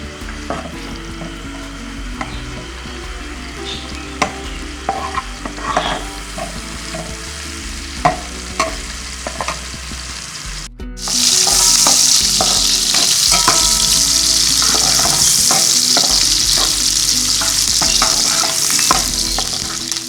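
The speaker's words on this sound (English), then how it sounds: "Add onions and let the onions get brown." Onions fry in hot oil for a mustard-leaf curry, with a scraping spoon stirring them in irregular clinks; near the midpoint a louder, steady hiss of sizzling swells up and holds to the end, with no talking.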